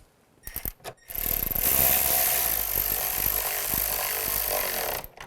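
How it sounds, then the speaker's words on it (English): A power driver running screws into the rear door latch of a 2005-15 Nissan Xterra: a few short taps, then a sustained loud whirring drive lasting about four seconds, close up, with no voices. "Now put the screws in."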